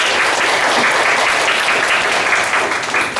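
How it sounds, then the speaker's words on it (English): A crowd claps steadily and warmly, dense applause filling the room without a break and tapering slightly at the end. "So give those speakers a big applause,"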